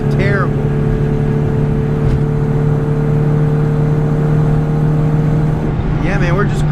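A 1989 Rover Mini cruising along, its engine a loud, steady drone with a constant hum, briefly interrupted near the end by a shift in pitch, while a voice talks faintly over it.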